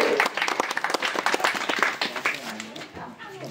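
A village crowd applauds prize winners at a competition, dense clapping up close with an announcer talking over it, the applause fading toward the end as the voice continues.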